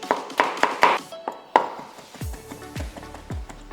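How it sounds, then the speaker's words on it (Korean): Garlic is minced with a knife on a board: a quick run of sharp chopping taps, a pause, then a few heavier, duller knocks, close and distinct with no talking. "마늘 2개는 이렇게 다져서 준비해 주시고요."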